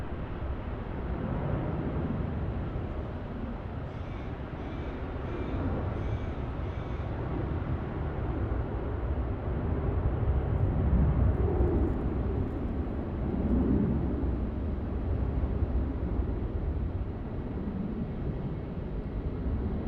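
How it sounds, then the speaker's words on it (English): A Jetstar Airbus A321 taking off and climbing steeply away from Melbourne Airport, a steady broad jet roar that stays loud and constant and swells slightly midway, with no talk over it. "Nice steep climb out there for that Jetstar A321."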